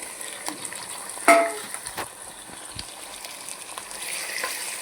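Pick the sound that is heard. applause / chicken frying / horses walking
chicken frying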